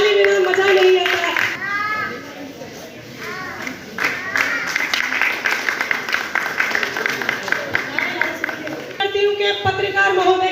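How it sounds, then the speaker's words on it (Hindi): Audience clapping at an Independence Day program at ESIC Hospital in Manesar, a burst of dense, sustained applause mixed with crowd chatter and children's voices, with a speaker talking over it before and after. "किसी प्रोग्राम में ताली बिना मजा नहीं आता।"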